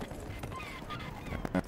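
Horse hooves clopping and a short neigh from a mount in the Neverwinter video game, brief and fairly quiet.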